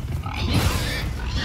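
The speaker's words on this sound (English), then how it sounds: "we gotta fight the three little pigs" Pigs grunting and squealing in a fantasy role-playing video game fight, dense, loud and continuous grunts layered over game noise, close up with no pause.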